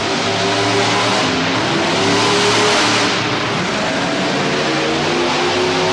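Monster trucks rev loudly and continuously while staging at a destruction event, a dense, steady engine roar with wavering pitch that fills the scene close up.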